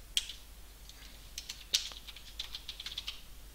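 Light keyboard typing while entering a name into a search field, a quiet, irregular patter of key clicks with a couple of sharper taps, no talking.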